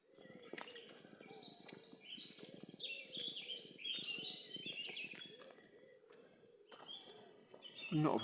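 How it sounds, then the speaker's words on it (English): Birds sing in a small woodland before sunrise, with overlapping chirps and warbling phrases near and far, and a faint low rumble beneath. "But today we're here for this lovely bird song."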